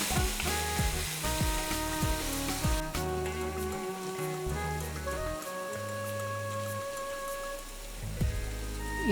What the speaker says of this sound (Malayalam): ഇഞ്ചി വെളുത്തുള്ളിയുടെ പച്ചമണമൊക്കെ മാറുന്നിടം വരെ നമുക്ക് വഴറ്റാം